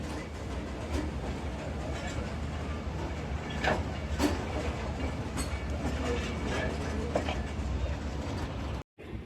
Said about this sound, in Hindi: आज हमारी गाड़ी जो है वो डिपार्चर कर रही है लाहौर रेलवे जंक्शन से